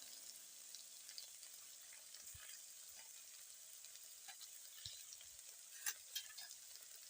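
Chopped onions fry in a pan with a faint, steady sizzle, with soft scraping and stirring clicks scattered throughout and no talking.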